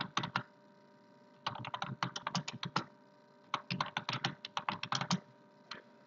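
A computer keyboard is typed on during a live online lesson, with three close bursts of rapid key clicks separated by short silent pauses and no talking.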